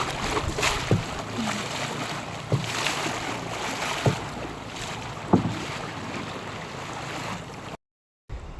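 Small wooden bangka crossing a river with a strong midstream current: a continuous wash of water and wind buffeting the microphone, with a few dull knocks from the hull, close and fairly loud.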